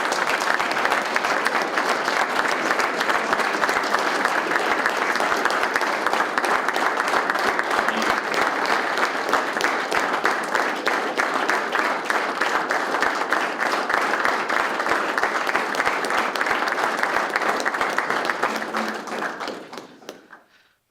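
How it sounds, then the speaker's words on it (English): Loud, sustained applause from a large audience at a speaking event fills the room, dense continuous clapping that holds steady for about eighteen seconds before quickly fading out. "Guys, let's give a big round of applause."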